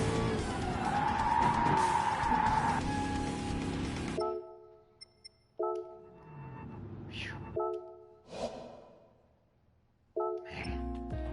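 A race car in a PS4 racing game skids sideways with loud tire squeal and engine roar, followed by several shorter bursts of screeching and revving separated by near-silent gaps.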